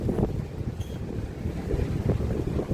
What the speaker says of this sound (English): Oh, it's windy, a little bit chilly.